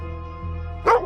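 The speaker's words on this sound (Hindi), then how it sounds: "जाकर देखो कुत्ते भौंक क्यों रहे इतना" One dog gives a single short, sharp bark near the end, heard over a low steady hum.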